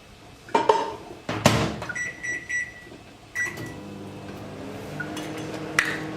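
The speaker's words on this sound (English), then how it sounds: "I'm going to microwave this rose water for about 2 minutes on high" A microwave oven heating rose water on high, with a few clinks of a glass container and door handling, a steady low hum running beneath, and a short beep near the end.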